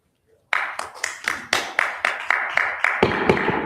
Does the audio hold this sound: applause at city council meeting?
yes